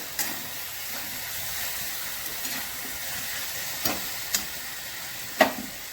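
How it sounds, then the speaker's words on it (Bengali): Coriander leaves are stirred into a bottle gourd and prawn curry in a pan, with a soft steady sizzle and a few scraping strokes of the spoon, close by and without talk. "ধনে পাতাটা মিশিয়ে দিই।"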